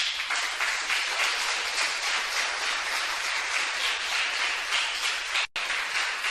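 A crowd applauds steadily and loudly, a dense wash of clapping that holds for several seconds before cutting off abruptly near the end.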